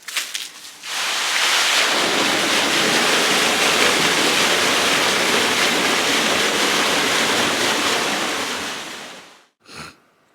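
A farm water pump motor starts up and water rushes out in a loud, steady broadband gush for about nine seconds before cutting off abruptly, followed by a brief splash.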